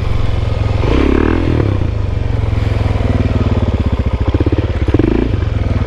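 A motorcycle fitted with an FMF exhaust revs loudly and close by, its throttle blipping in a rough, pulsing rumble with clattering engine noise over several seconds.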